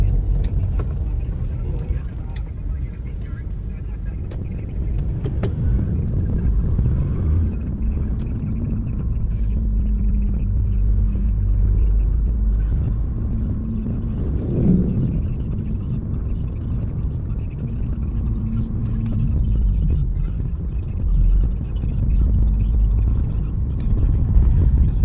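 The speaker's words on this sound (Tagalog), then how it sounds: "Ang daming jeep dyan. Tsaka tricycle." Busy road traffic with jeepneys and tricycles at Silang on market day, a continuous low engine rumble of passing vehicles with occasional clacks and rattles, loud and close throughout.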